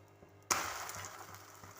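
A green gram egg dosa on a hot pan gives a broad sizzle that begins abruptly just after being flipped, then settles into a steady, moderately loud crackle of frying oil with no voices.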